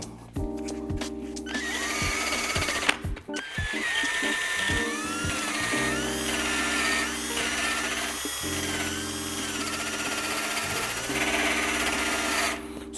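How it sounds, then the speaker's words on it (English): A hand drill whines in sustained, close bursts as it removes seam sealer from the fender and A-pillar area of an Integra body, its pitch rising and falling with load and broken by short stops and clicks. "Grab the drill."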